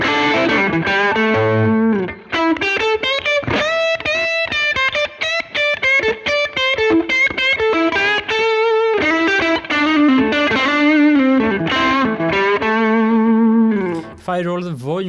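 Electric guitar played on its neck pickup through a UAD Showtime '64 tube amp on the bright channel with some room sound, giving a warm, driven melodic line of sustained notes with a slight grit, loud and continuous.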